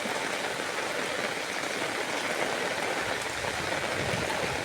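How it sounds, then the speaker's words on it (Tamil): Floodwater rushes around a house where the wells have filled to the brim, a steady, loud, unbroken wash of flowing water with no voices over it. "இங்கே பாருங்கள் வெள்ளத்தை கிணறெல்லாம் நிரம்பி"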